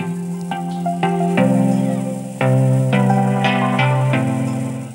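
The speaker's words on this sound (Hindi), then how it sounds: "अब मैं कोई सा एक सॉन्ग प्ले करके आपको दिखा देता हूँ," An electronic NCS track plays loudly from a TV through an amplifier and a pair of speakers, with steady beats and bright synth chords running throughout and no talking.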